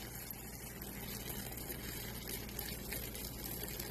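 Hot water from a tea kettle pours steadily into a soup pot of vegetables, a continuous faint gushing splash lasting throughout, with no talking.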